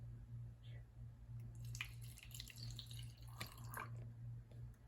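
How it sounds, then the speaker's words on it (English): Water is poured into a small toy blender from a gourmet kitchen appliance play set, giving faint, sparse drips and splashes over a low steady hum, quiet and close. "Let's get our blender out. And we'll pour some water in here."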